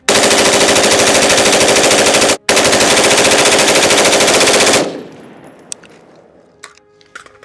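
An AR-15 rifle fires long, loud, unbroken strings of rapid shots with one very brief gap, then stops abruptly; after it stops, faint clicks and handling noises follow in near silence.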